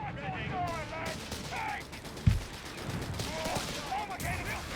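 Gunfire crackles in the World War II strategy game Company of Heroes 3, scattered shots and a sharp blast mixed with battle effects under a commentator's voice.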